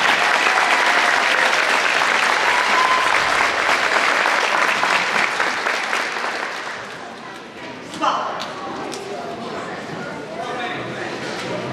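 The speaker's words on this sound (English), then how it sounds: "how about a big round of applause for all these music students that work so hard" Audience applause for music students at a spring school concert, a loud sustained round of clapping that tapers off after several seconds, leaving quieter scattered claps and room murmur with a voice starting to speak.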